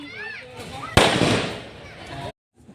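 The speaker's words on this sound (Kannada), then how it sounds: "ನೋಡಿ ಪಟಾಕಿ ಹೊಡೆದ್ರು ಇಷ್ಟೊತ್ತು ಮದುವೆ ಎಲ್ಲ ಪಟಾಕಿ ಹೊಡೆದೇ ಹೊಡಿತಾರೆ" A sharp firecracker bang erupts at a wedding after a moment of talk, followed by a crackling burst that fades over about a second before cutting off.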